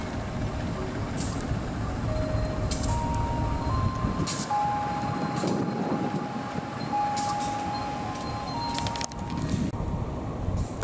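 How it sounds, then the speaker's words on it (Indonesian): Lodaya passenger train rolling into track 3 at a station on Indonesia's southern line: steady low rumble throughout, with a sustained horn-like tone in the middle and scattered clanks, moderately loud and continuous. "Kereta Lodaya persiapan masuk jalur 3 ya. Ini Lodaya tambahan nih"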